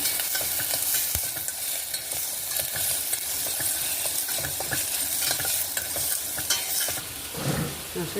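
Green chillies sizzle in hot oil in a frying pan with chopped onion for Andhra-style pappu charu dal, a steady close crackling hiss with stirring clatter throughout.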